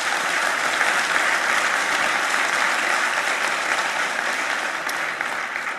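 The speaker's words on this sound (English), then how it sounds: "I think we should have a round of applause for that fact" Steady, dense audience applause at a university academic-year opening ceremony, filling the hall evenly for several seconds and tapering slightly at the end.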